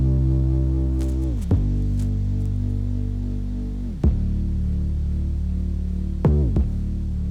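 A sampler plays a looped sample at different note rates: a dense, throbbing buzz that keeps sweeping sharply down in pitch, shifting to a new rate about every two and a half seconds, with no voices.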